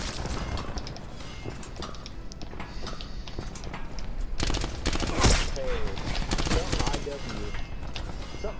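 Dense, rapid gunfire rattles almost nonstop through the Call of Duty Black Ops 4 match, with one sharp, loud shot cracking out near the middle and the firing staying close and busy throughout.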